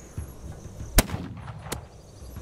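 A gunshot in the video game This Land is My Land, one sharp crack about a second in, then a second fainter shot a little later, over quiet game ambience.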